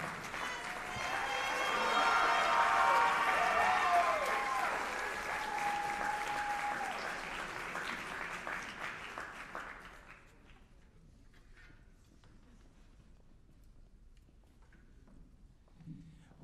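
Audience applause at a Loyola University New Orleans School of Music jazz ensemble concert, dense clapping and some cheers swelling early, then thinning and dying away into quiet room tone.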